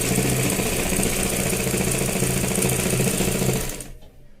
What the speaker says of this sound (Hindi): तो बाजू को बिठाने के लिए सबसे पहले इन दोनों को रखकर हम इस पे सिलाई चलाएंगे